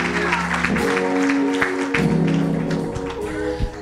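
Church congregation clapping during a pastoral anniversary service, a crowd of hands patting steadily beneath sustained organ chords, with a few sharper claps standing out and some talk in the room.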